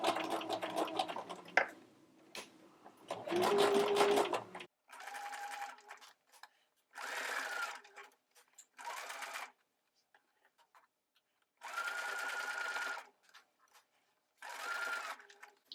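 Sewing machine stitching a seam on a culotte jumpsuit, several close bursts of rapid whirring stitches separated by pauses, with talk between runs.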